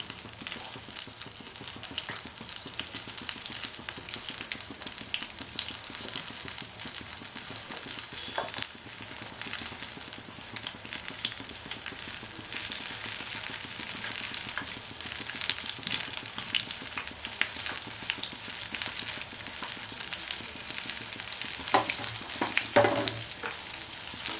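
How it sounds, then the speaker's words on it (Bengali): Bengali-style beans pakora frying in hot oil, a steady dense sizzle with crackling bursts and occasional stirring scrapes and clinks, loud and continuous throughout with no talk. "আমি নাড়িয়ে নাড়িয়ে খুব ভালো করে ভাজবো"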